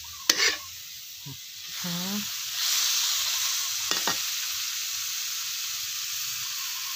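Sliced pork is stir-fried in a pan: a few clattering stir strokes at the start, then a rising hiss of sizzling and a couple of utensil clinks, with only a brief murmur of voice.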